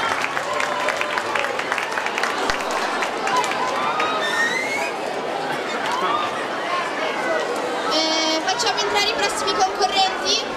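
Audience at a festival final evening show breaking into sustained applause, dense clapping with scattered cheers and chatter, loud and continuous throughout with whistles rising near the end.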